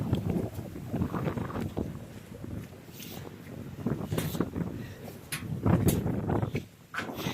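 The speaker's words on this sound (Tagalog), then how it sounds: "Lakas ng hangin." Strong wind gusts buffeting and rumbling close to the microphone on the summit of Mt. Kilomot, Sagay, Camiguin, rising and falling in uneven surges with no voices.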